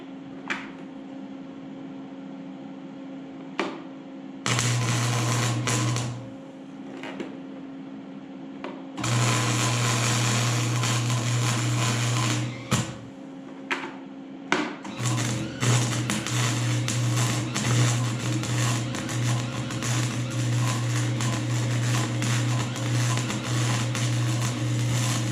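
Arc welding on an ATV log skidding arch, with a steady buzzing crackle coming in bursts of a few seconds, broken by short pauses and then running unbroken near the end over a constant low hum.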